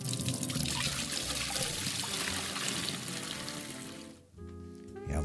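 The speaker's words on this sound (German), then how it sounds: "jetzt brauchen wir den Eimer und machen das ganze Becken erstmal wieder schön voll mit frischem Wasser" Fresh water tips from a bucket into an aquarium tank in a loud continuous pour that ends abruptly near the end, after which quieter trickling remains.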